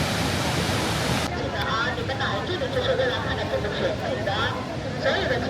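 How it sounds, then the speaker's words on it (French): Roaring waterfall at Furong Town, China, a village perched on the falls: a loud, steady broadband rush of falling water, close and continuous, with voices talking over it. "on peut passer sous la cascade"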